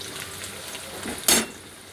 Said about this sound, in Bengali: কড়াইয়ের মধ্যে অনিয়নটা দিয়ে দিলাম।